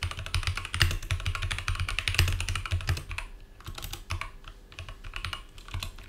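Steady, rapid typing on a computer keyboard while entering code to import Mongoose for a Nuxt 3 MongoDB setup; dense clattering keystrokes, close and fairly loud, with no talking.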